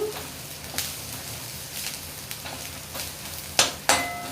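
Spinach being sautéed with turmeric in a pan, giving a soft, steady sizzle with a few sharp scraping stirs near the end, close but fairly quiet.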